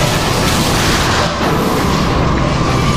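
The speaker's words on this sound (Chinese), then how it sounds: "力天使射出了备用的导弹，最终成功摧毁了这个全速奔来的大家伙" A missile blast destroys a charging ship in an anime battle: a loud, continuous roaring explosion that fills the whole stretch, with no talk over it.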